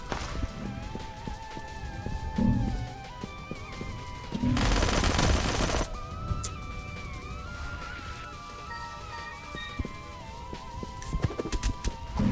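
A rapid burst of assault rifle fire in a shooter video game, a dense rattle of shots lasting over a second, set against a steady backdrop of music and game sounds.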